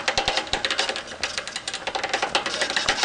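Rapid, busy clicking and rattling from loose bolts holding the rear gear onto a cycle's rear wheel, a dense run of sharp ticks repeating as the wheel turns, close and steady with no talking.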